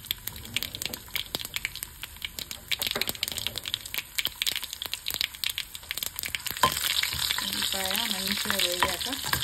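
Garlic frying in oil for a pappu dish gives a continuous crackling sizzle, sharpening into louder bursts of spitting and stirring scrapes toward the end, with a faint voice briefly in the background.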